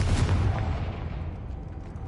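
A Confringo blast spell goes off in the Hogwarts Legacy video game: a single loud, deep boom that rolls away into a decaying rumble.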